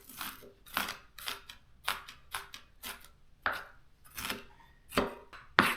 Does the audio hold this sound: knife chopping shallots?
yes